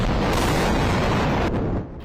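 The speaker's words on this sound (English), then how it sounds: "As explosions light up the Gaza sky, flattening whole districts in the enclave" Heavy explosions over Gaza during the Israel–Hamas war, a loud continuous rumbling boom filling the whole clip, fading slightly toward the end.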